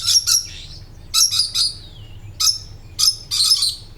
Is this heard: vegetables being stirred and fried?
no